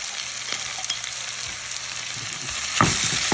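Sea cucumber and vegetables stir-fried with chili crisp give a loud continuous sizzle, with scraping stirs and a louder burst near the end, and no voices.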